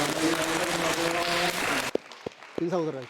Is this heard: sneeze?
no